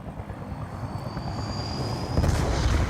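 Helicopter rotor thumping with a whining engine tone in Call of Duty: Black Ops 2, steady and fairly close, swelling louder near the end alongside a brief burst of noise.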